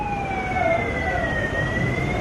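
A wailing emergency siren sweeps steadily through rising and falling tones over a constant wash of background noise, heard during a political speech by Annamalai, loud and continuous throughout.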